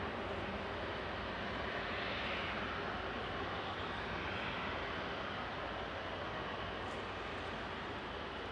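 Jet2 Airbus A330-200 lined up on the runway at Manchester Airport, its engines giving a steady, distant broadband roar that holds evenly throughout.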